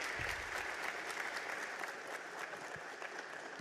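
A crowd applauds the constitutional president of Ecuador at a citizens' meeting, a steady, dense wash of clapping that holds evenly loud for the whole stretch with no voices above it.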